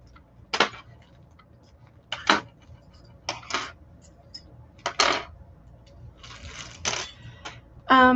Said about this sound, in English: These are vintage keys.